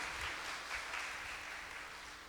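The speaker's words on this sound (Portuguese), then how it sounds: "Pode aplaudir." Faint applause from an audience at a religious talk, a soft, continuous patter of clapping heard from a distance for a couple of seconds.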